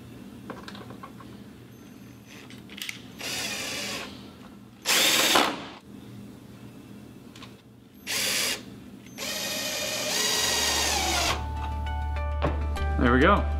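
A power drill fastens a safety tension device on a Rollease shade with a Skyline fascia, firing in several short loud bursts separated by pauses, with clicks and handling noises in between and a person speaking.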